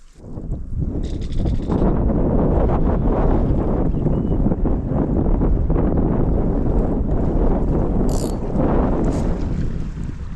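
Heavy wind buffets the microphone on an overcast day while a boat drifts at sea, a loud, gusting rumble that surges and eases continuously, with a few faint higher rattles.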